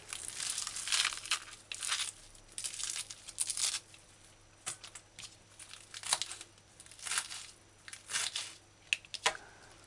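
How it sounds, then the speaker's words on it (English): Lettuce leaves are ripped and torn into pieces by hand for a Jamaican side salad, giving soft, close crinkling and tearing bursts in an irregular series with quiet gaps between them. "you can just rip it and tear off pieces"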